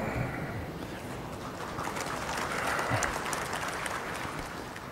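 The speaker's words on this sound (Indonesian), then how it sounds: "Jangan terlalu sering tepuk tangan." A crowd at a political speech in Indonesia applauds in a broad, moderately loud wash of clapping that swells slightly midway, with faint background murmur.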